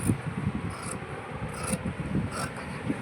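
Scissors cutting the outline of a blouse from fabric, a close, steady rasping snip and rub that keeps going with small pulses, with nobody talking.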